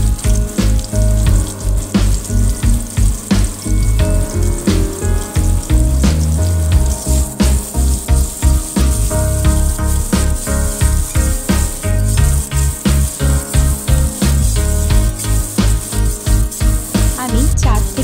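Potatoes frying with salt and turmeric in a pan: loud, dense crackling sizzle that runs steadily throughout, close up with rhythmic stirring pulses and no talk.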